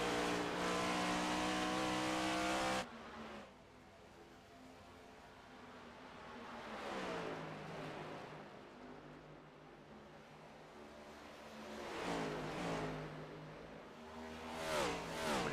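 NASCAR Cup Series race cars roar past on track, a loud engine blare cutting off abruptly, then repeated rising and falling pass-bys of engines revving at a distance, with no talk.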